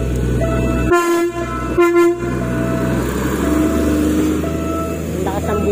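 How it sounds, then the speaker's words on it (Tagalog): A passenger train near Espanya station in Manila sounds its horn in two loud blasts at close range, then rumbles past over steady traffic and background noise, with some talk around it. "Busina ng train."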